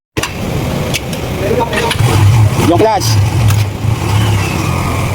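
A tricycle's motorcycle engine with sidecar revs up in bursts with a mid-pitched rising whine during an emission test at vehicle registration, as someone speaks over it nearby.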